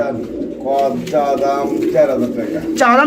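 Pigeons coo at a pigeon market where male and female birds are on sale, a steady throaty cooing up close with a person talking over it.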